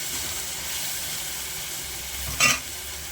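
Tomato curry simmers and sizzles in a pan with a steady hiss, then a brief louder burst of sizzle near the end.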